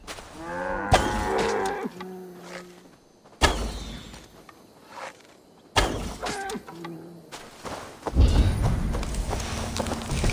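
Cows mooing in the Assassin's Creed Valhalla video game, several loud drawn-out moos separated by gaps, with hoof clip-clop and other game noises around them.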